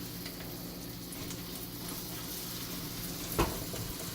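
Bacon and okonomiyaki batter fry in hot oil with a steady, close crackling sizzle and one brief louder pop or scrape near the end, with no talking.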